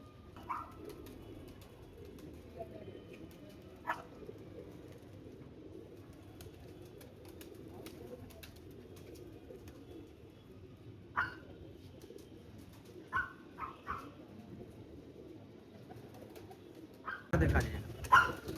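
Soft pigeon coos sound now and then over a quiet background, with a few brief clicks and a louder rustle near the end.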